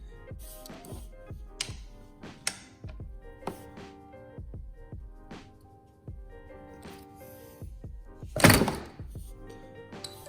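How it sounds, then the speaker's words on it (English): A wrench works loose the 18 mm oil drain plug bolt under the oil pan of a Kawasaki Ninja ZX6R 636 motorcycle, a run of sharp close metallic taps and thunks ending in one loud crack. "Next, we're going to crack the drain plug loose."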